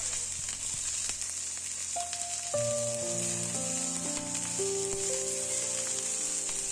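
Meat frying in a pan with a steady, bright sizzle, while several sustained tonal hums and a ringing tone overlap in the background.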